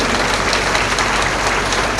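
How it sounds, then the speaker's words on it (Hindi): Audience clapping at a live bhajan gathering during the Ujjain Kumbh, a dense, continuous wash of many hands applauding loudly and steadily throughout, with no talk over it. "ताली बजाओ ना तुम।"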